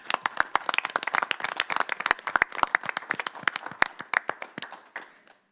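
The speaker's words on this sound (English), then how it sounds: "Let's give her a round of applause." A small audience at a town council meeting claps for a newly named assistant town manager, the sharp individual hand claps close and distinct, loosely rhythmic, tapering off over about five seconds.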